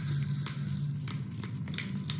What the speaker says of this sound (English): So I have already put the aloe vera juice and now I'll mix it properly.